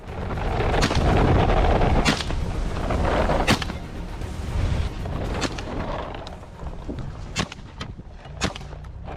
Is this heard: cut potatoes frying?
no